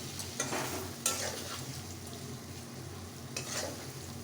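Spices, coriander and Kashmiri chili powder, stirred in a hot pan while making doodh potol, giving a soft, steady sizzle with a few faint scraping strokes, quiet and close, with no one speaking.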